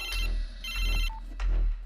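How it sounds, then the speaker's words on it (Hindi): A phone ringtone plays in short repeated electronic bursts, fairly loud and close, with no talking. "अपना फोन उठा।"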